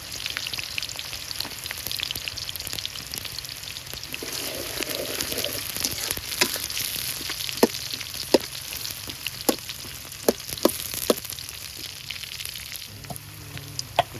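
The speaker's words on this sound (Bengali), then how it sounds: "তেল গরম হয়ে গেছে, এখন দিয়ে দেবো পেঁয়াজ।" Chopped onions hiss and crackle steadily in hot oil for a Bengali bhuna khichuri and chicken curry, with sharp pops and spits breaking through the continuous sizzle at close range.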